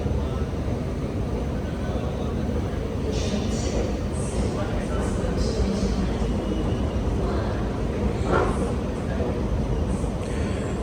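A Sydney Metro train arrives at the Victoria Cross station platform, a steady low rumble and whoosh filling an underground space, with faint brake squeals and a voice speaking nearby.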